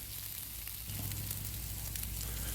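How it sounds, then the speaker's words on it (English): Bacon sizzling on a Blackstone griddle outdoors, a dense continuous crackle that swells slightly partway through, close and steady with no talking. "this Blackstone, it makes some very beautiful bacon."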